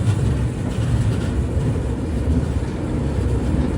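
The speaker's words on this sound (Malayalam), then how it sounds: "കേരളത്തിലെ ഈ ട്രെയിനിൻ്റെ അവസാന സ്റ്റോപ്പായ പാലക്കാട് ജംഗ്ഷനിലേക്ക് ഇതാ എത്തിയിരിക്കുകയാണ്" An express train on the Ernakulam–Barauni route rolls into Palakkad Junction, with a steady, loud rumble of wheels and carriages holding continuously throughout without pauses.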